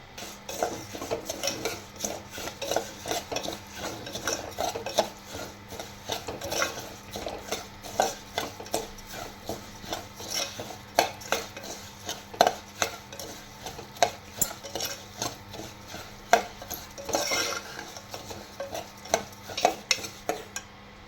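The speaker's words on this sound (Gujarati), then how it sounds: "તો આમાં આપણે ઘઉંના ખડા એડ કરી દઈશું અને શેકી લઈશું" Broken wheat being dry-roasted in a pressure cooker for faada lapsi, a spoon stirring and scraping steadily with rapid clattering strokes against the metal, close and fairly loud, no talking.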